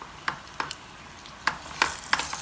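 A ground beef stuffed roti cooking on a pan gives sharp scraping and sizzling ticks from stirring and turning, six or so irregular close bursts over a quiet background.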